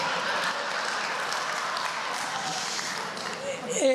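An audience applauds in a hall at a poetry event, a dense, steady wash of clapping that holds across the stretch and shifts near the end as a voice cuts in.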